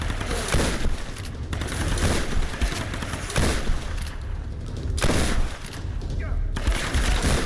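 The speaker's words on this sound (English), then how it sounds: "Trying to use that shotgun spread to my advantage." Shotgun blasts and gunfire erupt during combat in the video game Tomb Raider (2013): dense, loud, overlapping bursts with booming hits, nearly continuous across the clip, with a few brief lulls.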